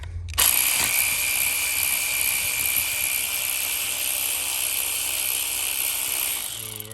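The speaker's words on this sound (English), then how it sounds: "Got a socket and a ratchet." A socket ratchet turns 10 mm bolts on the 5.7 Hemi engine of a 2011 Dodge Durango, a steady rapid clicking buzz held for several seconds, close and fairly loud, ending abruptly.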